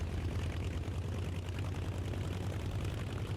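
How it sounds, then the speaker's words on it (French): An LA-7 aircraft engine runs steadily in the DCS flight simulator just after a cold start, settling into its idle. It gives a continuous, even, low rumbling drone that stays close and unchanging, with no voices. "Le moteur démarre, on attend qu'il se stabilise en régime"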